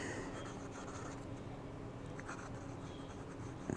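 Lamy Safari fountain pen with a cursive nib writing on Cosmo Air Snow paper, a faint, steady scratchy rustle of nib on paper continuing throughout, quiet and close.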